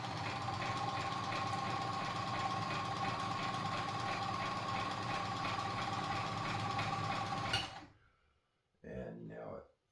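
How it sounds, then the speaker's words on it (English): A Kenmore 148.19370 sewing machine runs reverse stitches with a steady mechanical whir and rapid chatter for several seconds, then stops. A short burst of movement follows. "it's going to go back 1 or 2 times and lay down extra stitches in the same spot"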